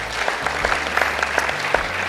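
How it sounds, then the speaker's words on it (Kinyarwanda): A burst of applause, dense continuous clapping from a church concert crowd, steady throughout with a low hum underneath. "mwemere munyemere tubakomera amashyi menshi"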